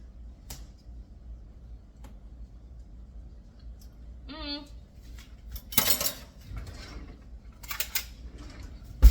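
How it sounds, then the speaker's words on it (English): A spoon clinks and scrapes against a pot while stirring relish into pickling brine. The contact sounds are sparse and light, with a brief metallic rattle partway through and a few sharper knocks near the end. "I'm just gonna go ahead and stir the relish in with all of the brine"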